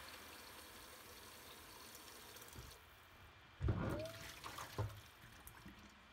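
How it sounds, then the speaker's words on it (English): Hot water running into and rinsing a cast iron skillet, a faint steady trickle that swells into brief louder splashes near the end. "Rinse it good a couple of times."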